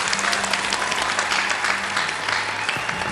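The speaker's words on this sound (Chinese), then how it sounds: "先给个掌声。" A television studio audience at a job-recruitment show breaks into sustained applause, a dense, even clatter of many hands clapping for about three seconds.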